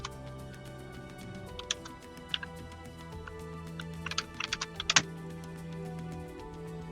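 Computer keyboard keys tapped while entering heading tags, scattered clicks and short bursts of keystrokes over a low steady hum, with a pause between bursts.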